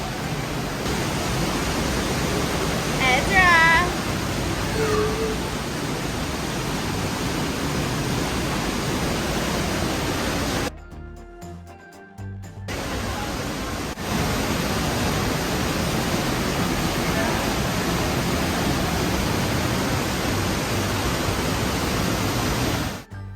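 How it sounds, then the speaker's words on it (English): A waterfall at Great Sand Dunes National Park roars steadily and loudly in broadband rushing noise, briefly cut out midway before resuming; a voice speaks faintly early on. "Ezra especially loves the sound of the waterfall."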